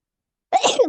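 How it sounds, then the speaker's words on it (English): One sharp, close sneeze bursts out abruptly after a moment of silence, loud and alone with no speech around it. "I'm just sneezing."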